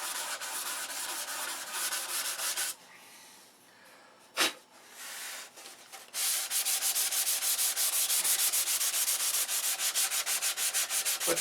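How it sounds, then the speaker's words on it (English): Sandpaper rubbing over the paint on a control line P-51B model airplane, close and loud with rapid rhythmic strokes, a quieter pause in the middle, then a fast steady run of strokes to the end. "you want to sand it down to where you can just see through it"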